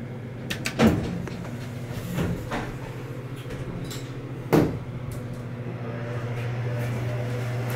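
An Otis Series 1 modernized hydraulic elevator's doors slide open slowly, with a couple of clunks and thumps over a steady low hum, fairly quiet and close.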